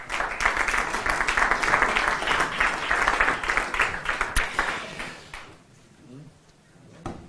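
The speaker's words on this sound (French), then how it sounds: "Vous pouvez les applaudir." An audience at a live debate on European trade policy applauds as panel guests are introduced, a dense sustained burst of clapping that fades out near the end, followed by a lone sharp knock.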